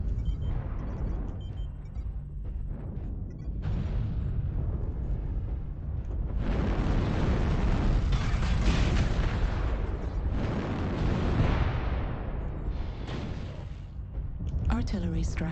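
Artillery strike explosions in the mech combat game MechWarrior Online: repeated heavy blasts and booming rumbles rise and fall in loud waves over about fifteen seconds amid ongoing battle noise.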